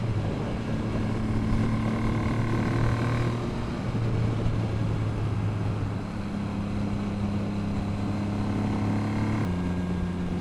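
A Triumph 900 motorcycle engine runs in top gear, a steady droning hum with distinct engine tones that shift pitch as the revs change, heard alone without talking.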